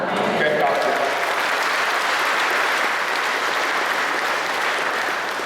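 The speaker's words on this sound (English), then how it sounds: "When you feel clapping hands, you can clap hands." Church congregation clapping hands together during a preaching retreat, a dense, steady applause-like wash of many hands lasting throughout, fairly loud and continuous with no speech over it.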